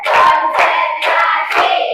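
A class claps hands in a counted ice-breaking routine, four sharp bursts of group clapping spaced evenly and close, each a short cluster of many hands.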